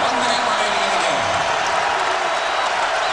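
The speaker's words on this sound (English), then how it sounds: "Crowd into it, trying to be a 6th defender for the Buckeyes." Arena crowd at a college basketball game between Minnesota and Ohio State, late in a close second half, roars steadily and densely with no break, while a commentator talks over it.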